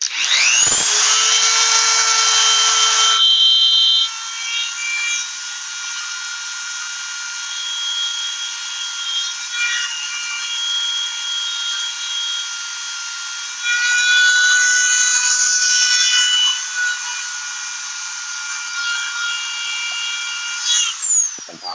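A rotary tool spins at high RPM polishing small gun trigger parts, giving a steady high-pitched whine that shifts in pitch and loudness as it presses on the metal, running continuously for about twenty seconds.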